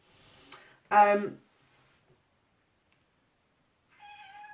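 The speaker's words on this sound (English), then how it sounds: "now the cat's meowing to go out and she can wait" A cat gives one clear meow up close, followed by silence and then a fainter, higher cry a few seconds later.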